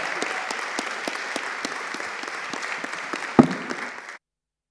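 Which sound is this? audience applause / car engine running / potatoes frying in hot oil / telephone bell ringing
audience applause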